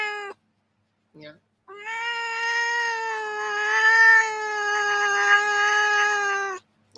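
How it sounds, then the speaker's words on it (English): A single drawn-out cat meow, loud and close, stretching for about five seconds with a wavering, whining tone, preceded by a couple of short chirps. "That's a really long meow"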